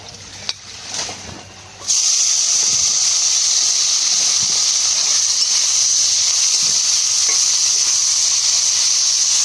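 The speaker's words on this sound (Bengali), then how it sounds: "শুকনো মাছটা ভেজে নেবো।" Dried fish, rubbed with salt and turmeric, hits hot oil in a heated wok and bursts into a loud, steady sizzle that holds without pause after a few quiet handling knocks.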